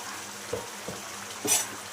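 Mutton chukka fries in a pan and is stirred: a few soft scraping strokes at irregular intervals over a faint, quiet sizzle, with no talk.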